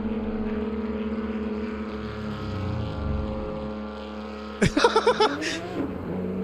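A strained, buzzy Porsche race car engine in Assetto Corsa Competizione drones steadily, lawnmower-like, at Watkins Glen, then a sudden rattling burst of revving and crashes cuts in near the end.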